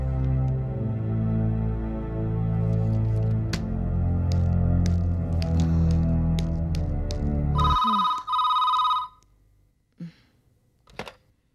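A telephone bell rings in a repeated trill over music, followed by a brief electronic tone and a few clicks before silence; no speech.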